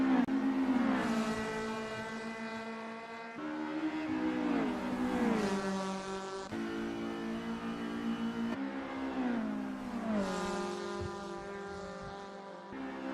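GTi race cars scream around a circuit, engines rising and falling through gear shifts as they take the curves, loud and continuous.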